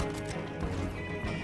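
A horse in the video game Red Dead Online sounds off with clip-clopping hooves and a whinny. Game noise hums steadily underneath the short burst.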